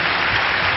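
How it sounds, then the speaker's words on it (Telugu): A church congregation claps loudly together in a brief, dense, continuous burst of applause with no voices over it. "గట్టిగా చప్పట్లు కొడదాం."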